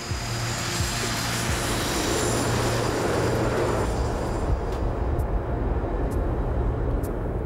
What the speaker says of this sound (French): Les 8 avions décollent pour un vol qui va durer 1 heure.